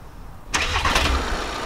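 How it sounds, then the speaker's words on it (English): Half a second of quiet, then a diesel van engine cranks and catches, settling into a loud, rough idle up close. "You ready to hear some diesel power?"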